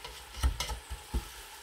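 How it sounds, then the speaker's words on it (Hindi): Onions frying slowly in a pan for dam pukht korma, browning over gentle heat, with a soft low sizzle broken by a few brief stirring scrapes and clatters, close up and fairly quiet. "अब हमने प्याज को इसी तरीके से आहिस्ता आहिस्ता ब्राउन करना है, हल्के हल्के से, ताकि प्याज जले ना।"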